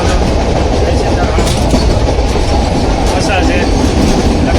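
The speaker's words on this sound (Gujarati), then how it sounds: "ટ્રેન એકદમ સ્પીડમાં હાલી રહી છે" A passenger train runs at speed, heard from inside a nearly empty carriage with wooden seats, its loud continuous rumble carrying a rhythmic clickety-clack of wheels on the rails.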